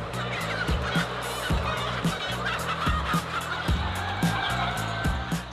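A dense chorus of tens of thousands of white silkie chickens clucking and squawking fills a large poultry shed, with repeated sharp calls over constant background noise.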